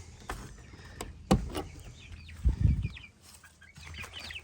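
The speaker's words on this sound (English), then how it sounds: "Yeah, got all the chickens in here." Hens cluck softly in a coop, a few low bursts of clucking with faint chirps of chicks and a brief knock, fairly close.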